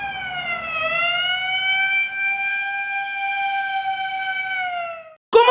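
An ambulance siren sounds one long, loud wail that dips slightly, then holds steady for several seconds before cutting off abruptly.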